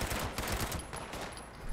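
Rapid bursts from an automatic pipe rifle in Fallout 76, a fast rattling run of shots at moderate loudness with no talk over it.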